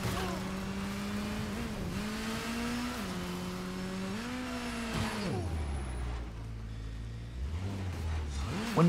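Batcycle engine in the video game Gotham Knights, revving with a loud, steady drone that rises and falls in pitch across several throttle swells, then drops low near the end, with faint tire squeal.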